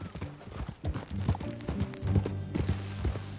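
Rhythmic clip-clop of video game horse hooves trotting close by, with a low voice murmuring briefly over the steady beat.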